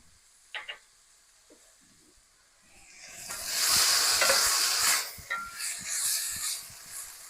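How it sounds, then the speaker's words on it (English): Garlic sizzles in a pan of softened vegetables for shakshuka, a quiet start with a few faint clicks before a loud, steady frying hiss rises at about three seconds and keeps on with small surges. "I'm going to add my garlic. And I'm going to cook that for about 30 seconds."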